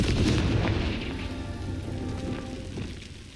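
A Confringo blasting spell explodes in Hogwarts Legacy, a loud, deep rumbling blast that fills the opening and then slowly fades into a crackling, rain-like wash of debris.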